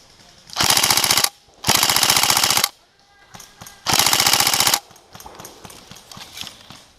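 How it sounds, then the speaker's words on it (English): Three loud, sharp bursts of full-auto fire from a Tokyo Marui SCAR-H electric airsoft rifle, each about a second long with clear gaps between, followed by faint distant clatter. "the latest design of Tokyo Marui automatic electric guns feature that recoil mechanism on the cocking handle"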